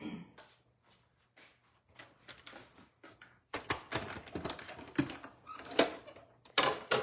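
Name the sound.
cut and emboss machine being moved into place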